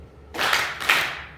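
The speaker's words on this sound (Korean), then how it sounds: "자, 박수 2번만 치겠습니다." Church congregation claps twice in unison during a sermon, two sharp, loud synchronized bursts of many hands about half a second apart, each decaying quickly into the room.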